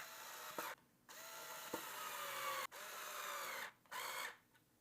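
Screws being power-driven to fasten a Tapo C520WS outdoor camera mount, heard as several loud bursts of whirring drill motor separated by brief pauses, close by and with no talking.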